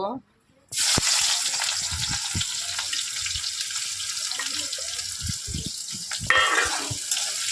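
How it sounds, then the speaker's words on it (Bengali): Onions fry in oil in a wok, the base for a spicy chicken curry, giving a steady close hiss of sizzling oil after a brief quiet gap at the start, with light clatter and a louder surge near the end. "পেঁয়াজগুলো হালকা লাল লাল করে ভেজে নেব"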